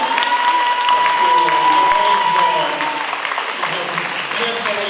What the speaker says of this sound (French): je vous demande de vous applaudir très fort